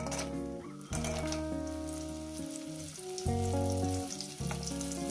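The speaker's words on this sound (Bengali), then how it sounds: "বড়িগুলো দিয়ে দিলাম।" Lentil dumplings (bori) sizzle and bubble in hot oil after the fish, a close, busy crackle with scraping stirs in bursts and no voices.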